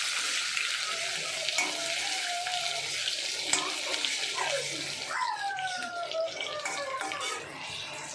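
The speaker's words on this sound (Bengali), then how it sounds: "আলুগুলো একটু ভাজা ভাজা করে নেবো" Potatoes fry in a pan with a steady, close sizzle and occasional stirring scrapes, while faint background chirps and movement sit under the frying.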